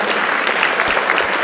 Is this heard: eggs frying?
no